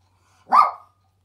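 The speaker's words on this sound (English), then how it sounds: "Oh my, and there go the dogs." A single dog bark rings out close by inside a quiet home, one short sharp burst with a breathy tail and no talk over it.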